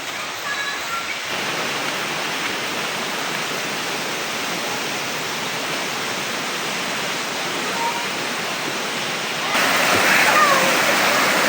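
A flowing stream in Mindanao, Zamboanga del Norte, rushes as a steady loud broadband wash of water that swells slightly louder near the end, heard up close.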